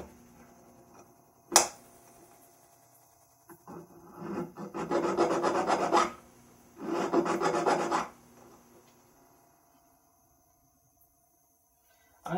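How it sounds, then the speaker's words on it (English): A hand file rasps back and forth across a bracelet link during jewelry repair: a sharp tap first, then two loud bursts of steady scraping strokes lasting a few seconds each, with quiet gaps around them. "I'm going to do this as much as I can with this file."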